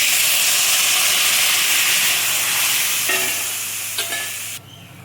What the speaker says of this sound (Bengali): কাঁচা লঙ্কা দিলাম, এবার জলটা দিলাম।